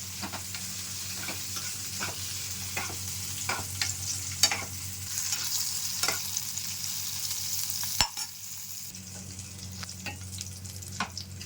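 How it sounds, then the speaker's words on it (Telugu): Green chillies fry in a pan for a village-style tomato and green chilli chutney with garlic: a steady, close sizzle broken by regular scraping stirs, with no talking. "పచ్చిమిర్చి ఇలా వేగాలండి, కరెక్ట్గా వేగినట్టు ఇట్లా వేగితే."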